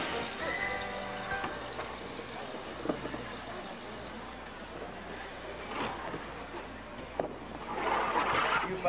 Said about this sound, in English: Otto hooked 8 horses to one side and 8 horses to the other side, and then Otto said, giddy-ap!